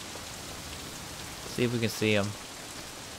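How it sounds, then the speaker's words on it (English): Rain falls in the open-world game Sleeping Dogs as a steady soft hiss, while someone speaks briefly over it. "Why is it raining now?"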